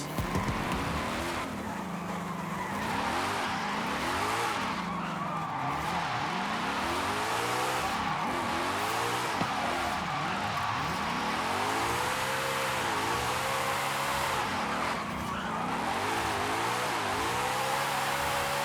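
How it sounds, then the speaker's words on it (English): A car drifting in Forza Horizon 5, engine revving up and down in repeated sweeps with sustained tire squeal through long slides, loud and continuous with no talk. "Just doing some nasty drifts."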